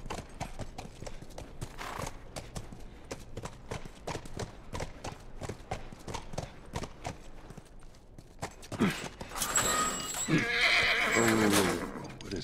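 A horse in The Last of Us video game, hooves clip-clopping in a steady walking rhythm, then a loud close whinny near the end, with game ambience underneath.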